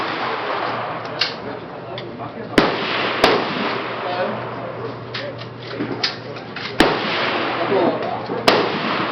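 Gunshots at an outdoor shooting range in January: five sharp, loud reports spaced irregularly over several seconds, with faint voices and a steady low hum in the background.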